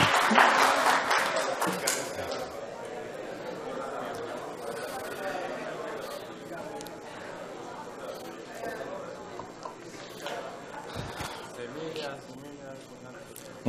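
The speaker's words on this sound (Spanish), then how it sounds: "Va, un aplauso, madre mía, que lo está haciendo genial." A small audience claps for a volunteer at a science talk on homeopathy, a short burst of applause at first that fades into scattered clapping and murmuring chatter, with people talking over it.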